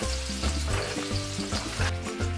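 Capers for a chicken piccata sauce sizzle and crackle in a hot pan at close range. The frying is loud and continuous, with a short series of stirring scrapes.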